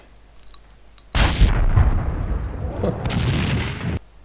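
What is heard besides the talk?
explosion in a video game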